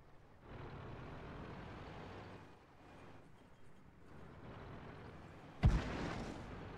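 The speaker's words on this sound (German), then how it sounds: "hier kommen schon die ersten Schüsse rein" A heavy IS-8 tank engine rumbles steadily in the video game World of Tanks, then a sharp, loud cannon-like blast cracks out near the end, ringing briefly before fading.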